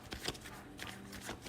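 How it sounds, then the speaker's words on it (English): Tarot cards being shuffled by hand, soft papery riffles and light taps repeating in short bursts, close and faint with no talking. "I don't know why I'm still shuffling the clarifiers"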